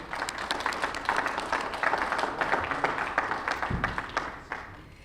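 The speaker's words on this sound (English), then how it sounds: "Can we give one final round of applause for Brett, Patrick, and Chuck?" Audience at a land-management panel gives a final round of applause for the panelists, moderate steady clapping that thins toward the end.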